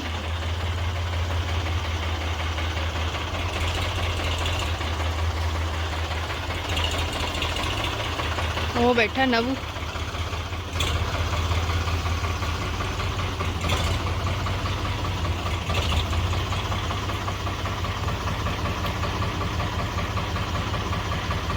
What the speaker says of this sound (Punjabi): tractor the entry